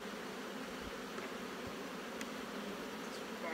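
Honey bees buzz steadily around an open, fairly strong colony with a honey-filled box, a dense continuous hum close by with no talk.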